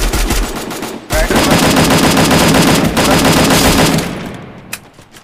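Sustained rapid machine gun fire in a battle royale video game, loud and continuous bursts with a brief gap, fading out near the end.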